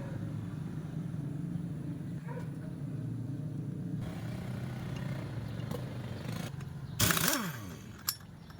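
A noisy Yamaha Mio Soul scooter with a ticking fault runs with a low, uneven engine rumble up close, followed by a sharp mechanical burst and a brief clack near the end.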